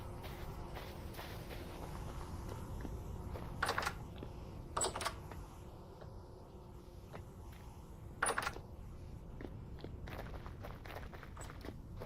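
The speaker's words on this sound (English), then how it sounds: "You might be hearing a bit of a clickety-clackety sound because I'm using a mechanical keyboard." A mechanical computer keyboard clicks in quiet, irregular taps, with a few louder clustered clacks, soft and close against faint background game sound, with no talking.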